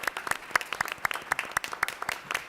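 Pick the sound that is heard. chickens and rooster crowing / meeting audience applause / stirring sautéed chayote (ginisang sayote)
meeting audience applause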